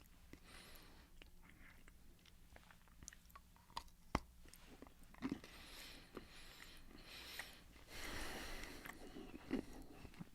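Quiet, close-up crunching and chewing of vanilla and chocolate almond bark candy, with irregular bites and brittle cracks continuing for about ten seconds and no talking.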